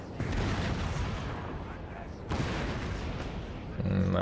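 Canister artillery firing away in Napoleon: Total War, a Great Britain coalition battle. A continuous loud roar of cannon and musket fire surges twice, filling the clip with no break.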